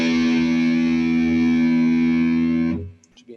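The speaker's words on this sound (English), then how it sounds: "So hopefully, with a bit of luck, your guitar should sound like this." Distorted electric guitar, freshly tuned, rings out as one sustained chord for nearly three seconds, loud and thick with effects, then is cut off abruptly, leaving a brief quiet tail.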